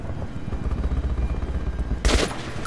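Gunfire in the video game Metro 2033 Redux, a continuous low rattle of shots followed by a brighter, louder burst near the end, with no talking.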